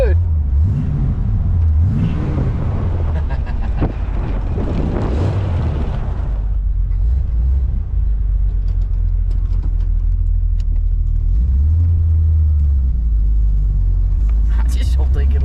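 A classic Corvette engine rumbles loudly and revs hard during an attempted burnout, a deep, heavy roar with surging pitch and some wind buffeting, with people talking over it.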